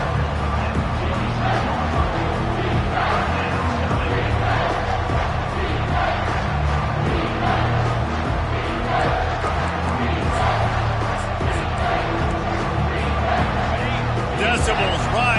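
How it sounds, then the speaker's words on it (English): A packed college football stadium crowd at a Texas A&M game roars steadily for the defense on third down, a dense loud wall of cheering and shouting that holds throughout, with commentators talking over it. "Decibels rising as the crowd gets behind this defense on 3rd down."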